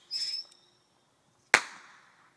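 One firework bursts outdoors with a sharp, gunshot-like crack and a trailing echo, preceded by a brief high whistle or hiss, with quiet gaps in between.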